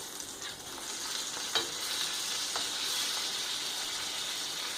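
A cheeseburger patty fries on a grill with a dense, continuous sizzle and hiss, close and fairly loud, with a couple of sharp spatula clicks cutting through.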